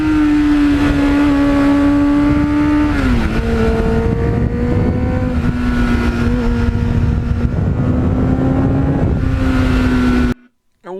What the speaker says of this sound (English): when you pop the throttle wide open, it just changes instantly